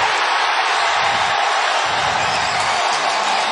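A huge stadium crowd roars during an NFL game in Cincinnati, a dense and steady wall of cheering that holds at full volume from start to finish.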